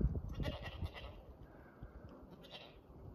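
A goat tethered while its kids nurse bleats several times in short bursts at close range, joined by rustling and handling noises from the farmyard.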